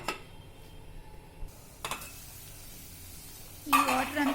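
Water with salt and two spoons of oil stirred in a cooking pot, sparse scrapes and light clinks of a spoon against the metal, ending in a louder splashy stir, fairly quiet and close.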